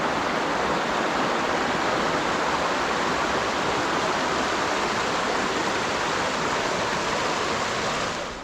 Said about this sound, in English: Finally, beautiful French Creek.